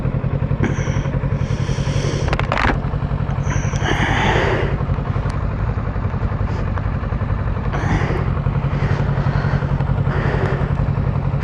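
A Honda motorcycle passes close by on an open road, its engine note rising and fading, heard over the steady rumble of a riding motorcycle and wind, with no talking.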